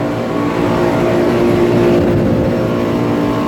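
A Carrier Gemini split-system central air conditioner condenser runs outdoors, giving a loud, steady fan whoosh with a low motor hum and tonal drone that holds evenly throughout.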